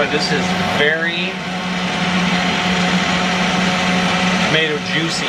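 A blender purées tomatoes into juice, running with a loud steady whir almost nonstop, with short breaks at the start and end where the pitch drops and climbs again.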